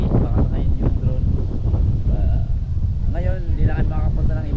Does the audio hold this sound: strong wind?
yes